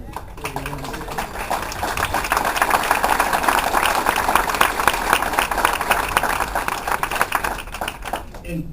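Wedding reception guests give a round of applause during a best men's toast, a dense, even patter of many hands that swells in the middle and fades near the end, with a voice briefly at the start.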